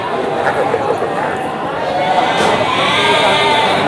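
Sheep bleat repeatedly at a Garut sheep market in Tanjungsari, close and loud amid crowd chatter and someone talking over the animals.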